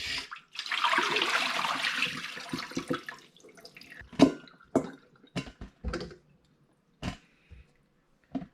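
Chayote being washed under cold running tap water: a few seconds of steady splashing flow, then scattered drips, splashes and handling knocks as the flow stops, close by and moderately loud.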